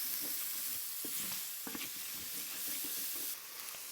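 Shallot, mushroom and cherry tomatoes sizzle and hiss steadily in a hot pan, with a few soft stirring scrapes and clicks through the frying.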